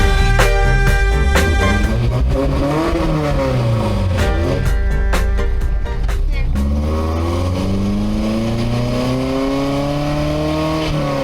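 A Toyota 4Runner engine runs loudly close by, revving up and down through gears as the vehicle drives along, steady throughout.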